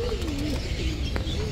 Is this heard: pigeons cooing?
yes